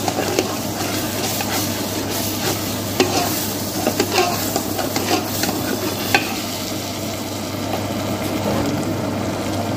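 Spices stir and sizzle in a frying egg curry masala with red chilli powder, coriander powder, kasuri methi and cumin powder, a steady close scraping and hissing that runs throughout.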